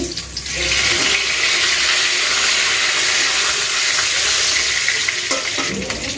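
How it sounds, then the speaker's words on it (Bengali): Two bay leaves are tempered in hot oil for a potato, pea and paneer dish, producing a loud, close, continuous sizzle and spatter, with stirring near the end. "আমি দুটো তেজপাতা ফোড়ন দিচ্ছি"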